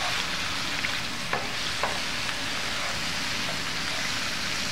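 Tofu fries in a hot pan, a dense continuous sizzle with a few faint scrapes and taps of stirring, close and steady throughout.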